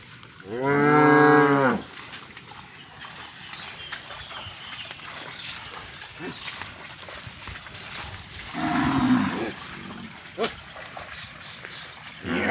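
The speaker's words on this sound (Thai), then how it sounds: "มีแต่วัวสวยๆเลยนะครับ" Cattle grazing in an open rainy-season pasture give a long, loud moo close by, followed later by a softer, shorter low over steady outdoor background noise with faint voices.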